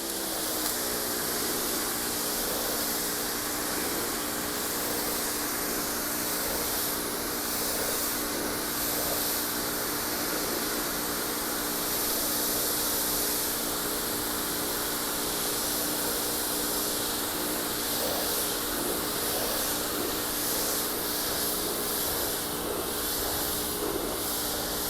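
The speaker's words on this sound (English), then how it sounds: "I'm just going to go ahead with the pressure washer on," A pressure washer sprays a steady, continuous hiss while rinsing down a waxed car outdoors, loud and unbroken throughout, with no voices.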